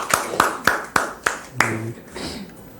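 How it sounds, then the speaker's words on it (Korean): Church congregation gives a short round of thanks applause: about six sharp, evenly spaced claps ringing out one after another, then a brief murmur of voices as the clapping stops. "감사의 박수 드립니다."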